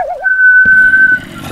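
Someone whistles a brief wavering note and then a long, steady held tone, loud and close, ending after about a second.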